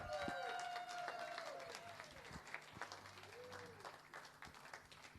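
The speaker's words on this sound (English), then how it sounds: "Massive round of applause for Marcus Meyer" A darts championship crowd at the Lakeside World Championships applauds a player's debut, the clapping steady at first and then tapering, with voices talking over it and a rising whistle near the start.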